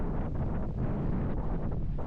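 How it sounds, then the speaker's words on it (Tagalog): Strong wind at a seaside cove in Burgos, Ilocos Norte roars steadily across the microphone, a constant buffeting rush with low rumbling gusts throughout. "Sobrang taas ng hangin."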